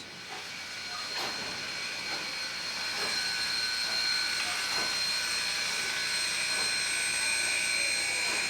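A Grand Canyon Railway steam locomotive hisses steadily as it rolls out of the shops, a continuous loud steam hiss with faint rhythmic chuffing underneath.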